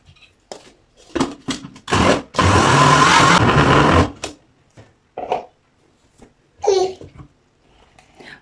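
A meat mincer grinds spices together with meat for hawawshi filling, a loud motor whirr in one sustained burst with shorter bursts around it, separated by quiet gaps.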